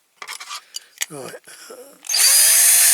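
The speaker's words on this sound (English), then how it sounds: "so it'll be easy to drill and tap" Brief voices and handling noises come first, then an electric drill kicks in loudly and runs steadily, grinding into the metal of a Dinky Toys Leyland lorry model.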